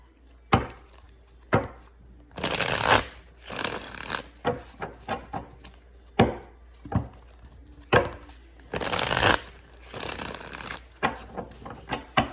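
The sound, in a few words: shuffling an old, worn deck of reading cards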